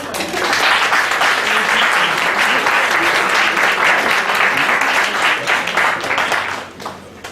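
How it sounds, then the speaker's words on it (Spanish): Sustained audience applause fills a hall during a civil code reform event, loud and steady for about seven seconds, then tapering off at the end. "un fuerte aplauso para"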